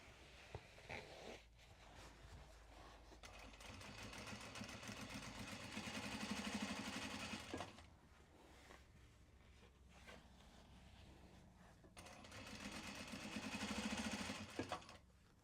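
Sewing machine stitching together pieces of Japanese fabric in two sustained runs of rapid mechanical whirring, separated by a quieter pause, close up with no talk.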